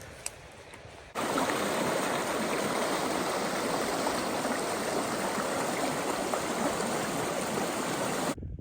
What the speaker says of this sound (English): I hear a creek down here.